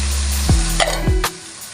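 Dried bamas fish shutki cooks in a pan with a steady, loud sizzle, broken by a couple of brief clinks of a utensil against the pan near the middle; no voices.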